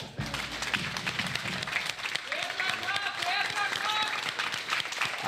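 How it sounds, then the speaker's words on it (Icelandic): Applause fills a hall at a spring cup meet, steady and dense for the whole stretch, with crowd noise and a few voices mixed into the clapping. "Það er gott klapp á salnum"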